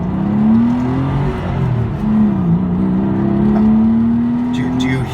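The engine of a 1998 Porsche 911 Carrera Targa (993) revs while driving, a loud, smooth tone that dips then rises in pitch, heard from inside the car.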